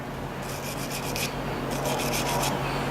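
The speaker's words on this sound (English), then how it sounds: "You can use a wire brush and clean it up, which it cleans up pretty easy." Wire brush scrubbing old Loctite residue off a metal part from a Zipper SS spinner assembly, heard as two bursts of quick, rasping back-and-forth strokes, close and steady over a low background hum.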